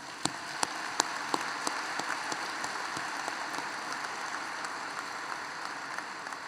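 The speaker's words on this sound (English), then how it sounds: "Let's clap for that." An audience at a high school graduation ceremony gives sparse, scattered applause, a few distinct claps standing out over a soft hall-wide patter that stays fairly even and distant.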